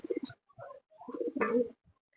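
Sirazi pigeons coo in short, soft bursts with brief pauses between them, close by, with no talking.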